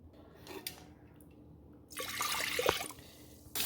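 Four and a half cups of water are poured onto rice in a pot for soaking, ahead of pressure cooking for a Jaffna-style kanji. A soft splash and trickle swells for about two seconds at close range after a quiet start, with no voices.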